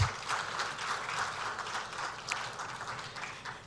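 Steady, moderately loud applause fills the hall at a swearing-in ceremony for new security chiefs, a continuous wash of many hands clapping without pause.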